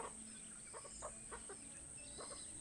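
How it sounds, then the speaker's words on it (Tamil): Chickens and roosters clucking as they eat scattered rice, soft intermittent calls over a steady high hiss, fairly quiet and without talk. "பாருங்கள், சேவலாம் தனித்தனியாக சாப்பிடுது"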